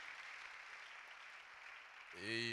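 Church congregation applauding inside a sanctuary, a steady broadband wash of clapping that swells louder near the end as a sustained tone joins in.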